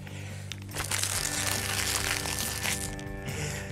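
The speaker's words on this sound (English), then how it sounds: "I know it's hard to crumple up your own work, but doing this makes it look really old" Paper artwork, already coated with glue that dried clear and shiny, is crumpled by hand to make it look aged, giving a dense, continuous crinkling and crunching that fills nearly four seconds at close range.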